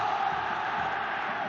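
A stadium crowd roars steadily at an Asian Champions League quarter-final between Persepolis and Al Hilal after Al Hilal score, a dense, sustained wash of cheering with no single voice standing out.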